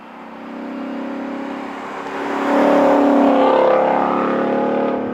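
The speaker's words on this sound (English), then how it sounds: "It's time to drive the Ford Mustang RTR Spec 3." Ford Mustang RTR Spec 3, an 800 hp car, rumbles under steady engine drone that rises into louder revving acceleration midway, with no talking.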